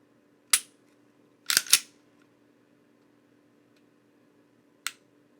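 A Mossberg MC2C stainless pistol's trigger being dry-fired, one crisp click for the break, a close pair of clicks, then a single later click for the reset, sharp and close in a quiet room.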